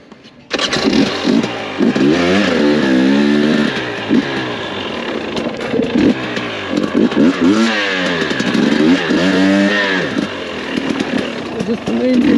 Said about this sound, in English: Oh, I love this bike, man. This 4-strokes blow.